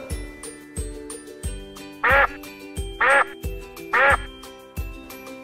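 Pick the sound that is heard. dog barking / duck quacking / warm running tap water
duck quacking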